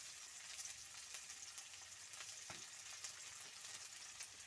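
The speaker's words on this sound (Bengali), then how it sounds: "পেঁয়াজগুলো দিয়ে দিচ্ছি, যেটা আমরা একটু আগে কেটে রেখেছিলাম।" Sliced onions frying in a hot pan for a pasta dish give a steady, close hiss of sizzling oil, with a few light scrapes and taps of stirring scattered through.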